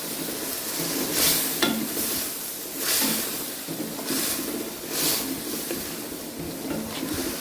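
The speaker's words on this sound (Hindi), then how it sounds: "अब 2 से 3 मिनट के लिए अब मैं गाजरों को भूनूंगी ताकि ये अच्छे तरीके से गल जाए" Carrots stir-fried in a pan for Chinese fried rice, giving a continuous sizzle with rhythmic swells as a spatula scrapes and tosses them every second or so, close and fairly loud.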